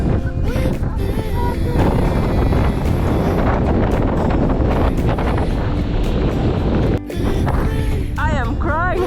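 Strong wind buffeting the microphone in a loud, continuous roar at a scenic outdoor spot in Belogradchik, Bulgaria, briefly dropping out before gusting again.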